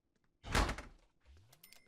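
Refrigerator door slammed shut in The Sims 4, a single sharp thunk with a short rattling tail, followed by faint lighter clicks.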